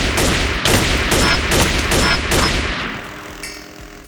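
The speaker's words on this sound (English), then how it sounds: "Oh, I guess it blew up a little bit more." Explosions in modded Minecraft, a rapid series of about five loud sharp blasts in quick succession, then fading into a rumbling decay.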